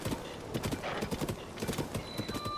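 Horse hooves clip-clop in a quick, regular rhythm in The Legend of Zelda: Tears of the Kingdom, moderately close, with a brief whinny-like tone near the end.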